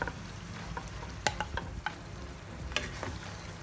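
Mashed roasted eggplant bharta with green chillies hitting spiced masala in a hot pan, a soft steady sizzle with scraping stirs and a few sharp spatula clinks.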